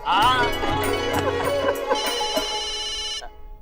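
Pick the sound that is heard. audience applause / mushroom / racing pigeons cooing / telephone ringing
telephone ringing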